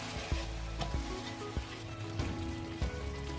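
Spoon scraping and stirring through yogurt mixed into roasted masala paste in a frying pan, a steady sizzle underneath broken by several sharp clinks and scrapes at irregular intervals, close and clear with no talking.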